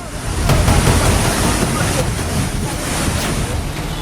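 Loud, continuous roar of surging, swollen floodwater during heavy monsoon rains in hilly terrain, with broadband rushing and wind buffeting against the microphone and no pauses.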